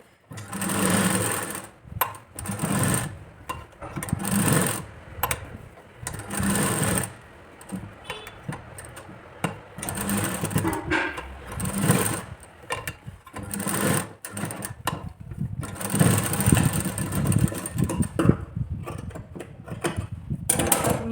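A sewing machine stitches a katori blouse in steady bursts of whirring mechanical runs, pausing briefly between seams, close and fairly loud with no talking.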